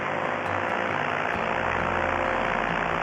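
A paramotor's engine and propeller drone steadily in flight, a loud, close, unbroken roar with wind rush mixed in and no change in pitch.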